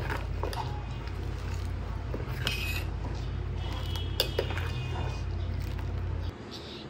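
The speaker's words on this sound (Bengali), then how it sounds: "চিনিটা দিয়ে ভালোভাবে আবার নাড়িয়ে নিচ্ছি।" A spoon scrapes and clinks against a pot as sugar is stirred into a green-banana kofta curry, a steady close clatter running without a break over a low background hum.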